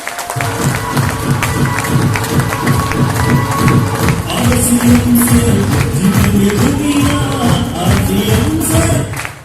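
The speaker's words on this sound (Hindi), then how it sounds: "एक बार दोनों हाथ ऊपर करके जोरदार ताली बजाएंगे" Loud, rhythmic clapping fills a business seminar hall in Gurugram, Haryana, the crowd beating hands in unison with music and cheering mixed in.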